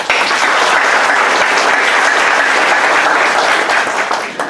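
A university audience in Nashik breaks into loud, sustained applause, a thick wall of clapping that holds steady before tapering off at the very end.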